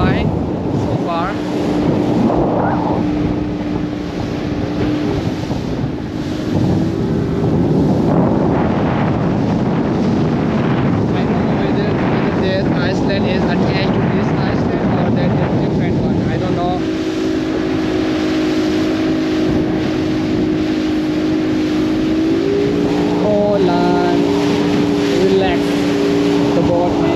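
Day-trip boat crossing the sea from Pattaya to Koh Larn island, its engine a steady droning hum beneath rushing wind for the whole stretch, with people talking over the noise.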